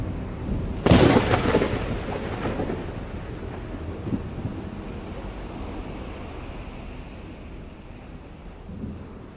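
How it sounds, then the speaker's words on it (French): A single loud thunderclap cracks sharply, then rolls away in a long fading rumble over soft rain and wind, with a faint second grumble near the end. "j'ai entendu des coups de tonnerre"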